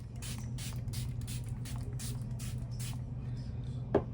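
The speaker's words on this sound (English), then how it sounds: "I'm gonna set my spray." Several short hissing bursts from a setting spray mist, one after another at a steady pace over a low constant background hum, ending with a brief tap.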